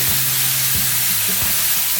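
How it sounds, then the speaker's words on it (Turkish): Steady, loud sizzling of chicken sautéing in a hot pan, a constant hiss with faint stirring bumps underneath. "Şimdi tavuklarımı üzerine döküyorum."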